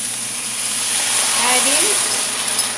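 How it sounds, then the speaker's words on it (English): Sweet and sour sauce made with ketchup and palm sugar poured into a hot pan, producing a broad steady steamy hiss and sizzle, close and loud throughout. "going to pour in this sauce"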